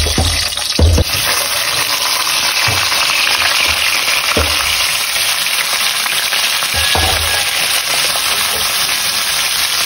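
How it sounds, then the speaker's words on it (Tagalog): Tilapia sizzles loudly in hot oil in a pan, a dense and constant frying hiss broken by occasional pops and spatters, heard close up with no talking. "At ako po ay magpiprito po na itong tilapia."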